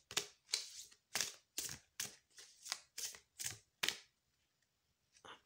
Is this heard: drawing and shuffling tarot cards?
yes